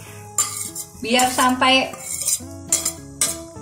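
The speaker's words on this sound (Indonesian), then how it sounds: "setelah air mendidih kita masukin daging ayam, tahu" Chicken meat and tofu dropped into boiling water in a metal pot, with sharp clinks of a utensil against the pot, a few clattering knocks and soft splashes, close and fairly loud, with a brief spoken phrase.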